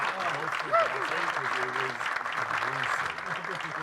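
Steady crowd applause filling the whole stretch, with a voice talking over it partway through.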